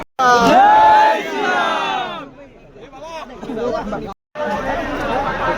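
A large crowd at a bull event in Alibag chatters and shouts loudly and close, voices swelling into a roaring babble, dipping, then surging again.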